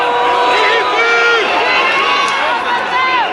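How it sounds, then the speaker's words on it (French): A dense crowd of five to six hundred protesters massed outside the Brussels courthouse, loud and continuous, with shouting voices, booing and rising whistles layered into a constant roar at close range. "Huées, sifflements, cris de haine"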